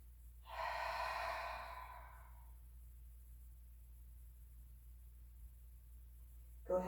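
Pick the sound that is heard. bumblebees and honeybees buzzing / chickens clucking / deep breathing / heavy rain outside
deep breathing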